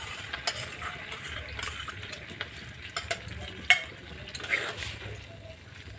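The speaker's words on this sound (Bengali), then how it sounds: "দিয়ে হাই ফ্লেমে এটিকে নাড়াচাড়া করে নিতে হবে।" Chilli fish being stirred on high flame after cornflour slurry goes in, a close sizzle under repeated scraping and clinking of a spatula against the pan in an uneven rhythm, no talking.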